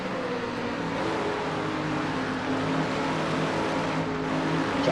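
Race cars in a NASCAR-style sim racing game, a Pontiac field on track, roar past in a steady, dense engine drone with harmonic whine that holds loud and continuous throughout.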